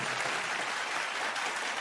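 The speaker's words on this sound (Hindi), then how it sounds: "यहां से मैं चाहूंगा एसपी साहब के लिए जोरदार तालियां" Audience applause at a Bollywood awards show in 2016, a dense, sustained wash of clapping from a large crowd, steady and fairly loud throughout.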